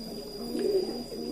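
A white metris pigeon of the bule telampit colouring coos once, a soft, fairly close call rising briefly in the middle against a steady background hum.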